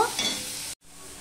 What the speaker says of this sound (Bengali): এবার পেঁয়াজ, লঙ্কা, রসুন আমি একটু লাল লাল করে ভেজে নেব।